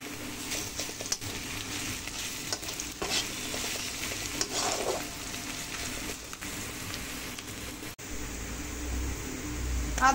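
Garlic fries in hot oil with onions in a wok, giving a steady close sizzle with scraping stir strokes throughout and a brief louder low rumble near the end.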